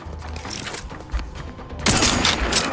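Gunfire rattles in a firefight in The Outer Worlds 2, a dense spray of shots under a constant mechanical background that swells suddenly louder and more intense near the end.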